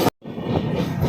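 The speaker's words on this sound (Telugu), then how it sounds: "అవుట్లో ఉంది ఇప్పుడు మన ట్రైన్." The Tirumala Express passenger train rolls toward Tuni station with a loud, close, steady rumble of wheels and carriages after a brief cut at the start.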